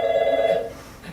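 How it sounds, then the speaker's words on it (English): An old-style telephone bell rings indoors in a brief, steady electronic trill that cuts off partway through, followed by quiet room tone. "Would you get the phone, please?"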